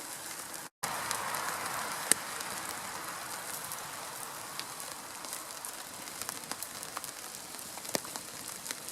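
Steady rain patters on surfaces outdoors beside a rocket cooking stove, a dense continuous hiss with scattered louder drops.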